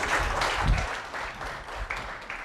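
Brief applause for a contestant named Andre at a TV talent show, a burst of many hands clapping together in a steady crackle that is moderately loud and slightly distant, lasting a couple of seconds.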